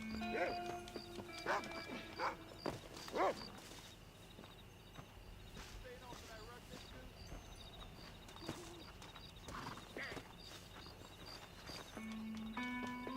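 A dog in the video game Red Dead Redemption gives several short barks and yips, mixed with game dialogue and ambient sound. The barks come in scattered bursts, sometimes under the voices.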